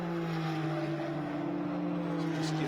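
A GT race car from the Blancpain GT World Challenge America at Las Vegas Motor Speedway holds a loud, steady engine drone with a strong, even hum that runs without a break.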